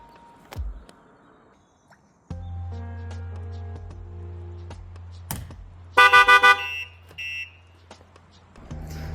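A short burst of rapid electronic chirps from a Range Rover SVR alarm's pre-warning, briefly rising over a low engine hum, with a few clicks and thumps around it.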